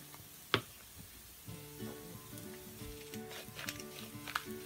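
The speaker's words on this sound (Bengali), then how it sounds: "এখন চুলার জালটা মিডিয়াম ফ্লেমে রেখে বেশ কিছুক্ষণ চালটা ভুনিয়ে নিতে হবে।" Rice is dry-fried on medium flame for Bangladeshi plain pulao, giving a gentle crackling sizzle with a sharp knock near the start and light scraping stirs, fairly quiet and without voices.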